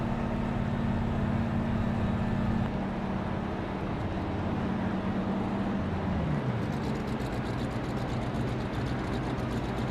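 A 1987-spec American stock race car engine drones loud and continuous, its pitch holding steady and then sliding down partway through, with no voices over it.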